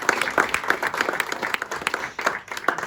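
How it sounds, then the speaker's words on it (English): Audience applause at a village history group Christmas event, honouring teachers: a small indoor crowd claps steadily and fairly close for about three seconds, dense and uneven. "Let's give them all a round of applause."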